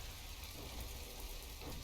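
Heavy rain falls steadily in a tank battle video game, a dense, constant hiss of downpour with no breaks and no talk.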